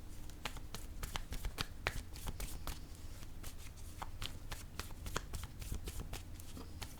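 Playing cards are riffled and shuffled close up, a continuous run of crisp rapid flutters and snaps with a soft low room rumble underneath.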